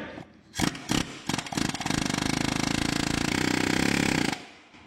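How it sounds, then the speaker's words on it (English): An air hammer works on a stuck distributor in a 1957 Chevrolet station wagon, a loud rapid pneumatic hammering that opens with a few short bursts and then runs as one long continuous rattling blast before cutting off abruptly. "It's the first time using an air hammer to remove a distributor."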